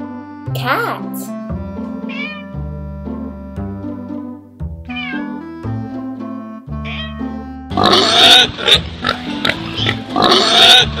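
A pig in a children's farm-animal cartoon gives loud, harsh grunting squeals near the end, following a run of cat meows, all close and without talk.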